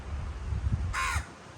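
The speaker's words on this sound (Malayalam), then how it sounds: "പോവൂ കാക്കേ." A crow caws once, close and clear, in a rural Kerala garden near a rubber plantation after heavy overnight rain, over a low background rumble.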